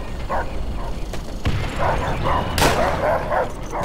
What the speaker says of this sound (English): dogs coming right at us!